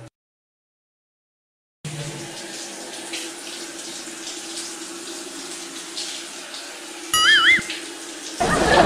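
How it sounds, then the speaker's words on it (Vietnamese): Water gushing from an opened shower tap in a room, a steady, close hiss of running water that starts abruptly after a short silence and continues, with a brief squeaky tone near the end. "Ủa sao mình mở rồi mình nghe tiếng nước rồi mà."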